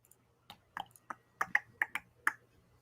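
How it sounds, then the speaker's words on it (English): Sharp tongue clicks from a man in a video being played back, about eight quick separate pops spread unevenly across a couple of seconds, fairly quiet over a faint low hum. "Listen to his tongue clicking."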